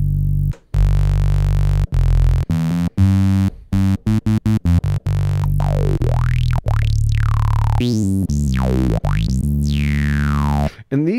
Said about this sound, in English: these really squelchy sort of filter sounds